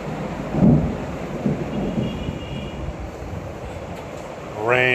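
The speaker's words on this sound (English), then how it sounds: "Rain." Rain falling with a low rumble of thunder in Merida, Mexico, a steady hiss with a deeper roll near the start, then a voice speaking briefly at the end.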